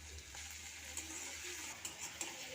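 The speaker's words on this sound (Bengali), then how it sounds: "টমেটোটা ভাজা ভাজা হয়ে গেছে" Chopped tomatoes with onion and chilli fry in a pan, giving a faint, steady sizzle with a few light stirring clicks, quiet and close.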